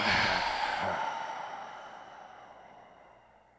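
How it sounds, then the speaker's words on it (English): A single deep breath ending in a long, audible exhale, close and breathy, fading gradually over a few seconds with no talking. "I want you to take a deep breath in and then exhale"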